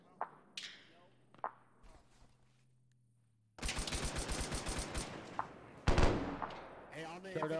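Machine gun grazing fire in a military video game, quiet at first with a few isolated reports, then a sudden sustained burst of rapid close automatic fire with heavier bangs mixed in.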